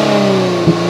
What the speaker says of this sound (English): the factory exhaust isn't the best thing to listen to in the world